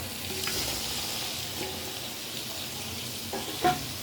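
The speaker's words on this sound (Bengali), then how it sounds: "মশলাটা কষানো হয়ে গেছে, চিকেনগুলো দিয়ে দিব।" Chicken pieces going into a pan of fried, well-cooked masala for a spicy red chicken kosha, giving a steady close sizzle with stirring scrapes and a brief louder clatter near the end.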